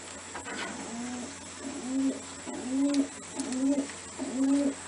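Racing pigeons hanging out in their loft coo softly and repeatedly, with about five low, rolling coos in a steady rhythm at close range over a faint background hiss.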